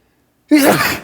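A single sharp sneeze bursts out close by after a moment of silence, then trails off quickly.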